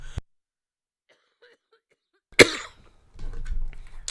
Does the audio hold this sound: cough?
yes